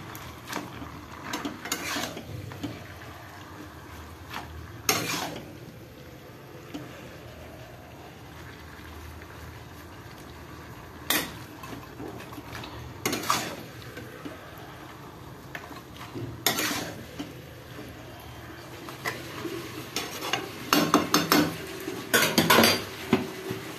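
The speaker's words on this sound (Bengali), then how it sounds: "নুন দিয়ে ভালো করে নেড়ে নিতে হবে।" Mutton being stirred with salt in a cooking pot, with intermittent metallic clatters and scrapes of the spoon against the pot over a quiet background.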